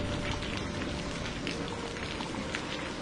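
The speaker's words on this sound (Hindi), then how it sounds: "बाहर अब भी जोरदार बारिश हो रही थी।" Steady, dense hiss of heavy rain pouring down without a break, loud and even throughout, with no voices.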